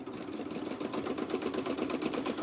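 A sewing machine runs a satin stitch, its needle beating in a fast, even rhythm of close mechanical taps under a steady motor hum, heard alone at moderate volume.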